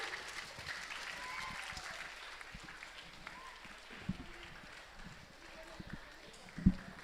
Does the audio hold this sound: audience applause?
yes